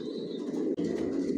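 Racer pigeons cooing in a loft, low soft rolling coos close by with a brief pause midway, no talking.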